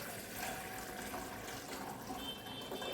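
Three glasses of water are poured into a pot to be boiled for a Kerala-style home remedy dry ginger coffee, making a steady, moderately quiet stream of splashing water with no talk.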